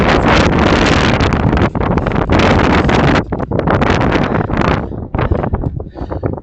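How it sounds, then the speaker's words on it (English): Gusty wind buffets a microphone outdoors, loud rumbling bursts that drop out and return in uneven surges, turning choppier toward the end. "It's windy"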